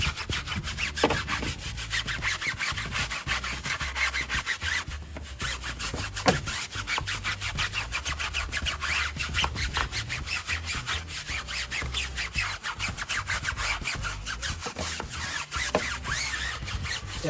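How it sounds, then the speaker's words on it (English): A stiff tire brush scrubs dirty car tires with shampoo during a BMW F30 detail, giving a steady, close, continuous rasping scrub with quick back-and-forth strokes and no talking. "Using a tire brush, just make sure you scrub the tires clean."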